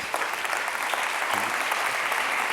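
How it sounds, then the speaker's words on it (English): An audience claps for the jurors at a startup pitch event, a steady wash of moderately loud applause sustained evenly throughout with no break. "Big round of applause for the jurors, everybody."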